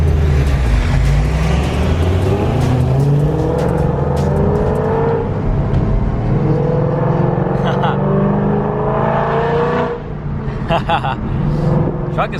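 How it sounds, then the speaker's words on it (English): A Ford GT500's sports exhaust growls and revs under load, loud and steady for several seconds before the engine note briefly dips and picks back up, with a voice talking over the drone. "This exhaust sounds so mean."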